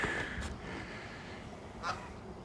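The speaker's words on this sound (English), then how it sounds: "And of course the crows calling." Two harsh, distant crow caws sound outdoors on a snowy spring day in Regina, one near the start and another a couple of seconds later, over a steady low background rumble.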